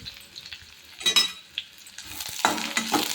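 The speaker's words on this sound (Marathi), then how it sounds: "आता कांद्याला आहे ना चांगलं गोल्डन ब्राऊन होऊन देते" Onions fry in a pan toward golden brown, a close crackling sizzle with stirring scrapes and clinks, growing fuller and louder in the last second.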